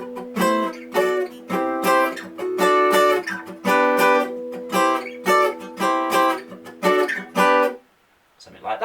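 Acoustic guitar chords strummed in a steady stepwise walk-up, each chord struck and briefly ringing with short gaps between, loud and close, ending in a brief silence before a faint final strum.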